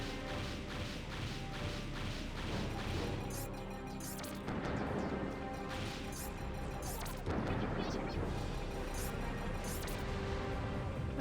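Missiles launch and explode in the mech game Armored Core 3: a dense run of booming blasts and crashes, with bigger bursts near 4 and 7 seconds over constant game noise.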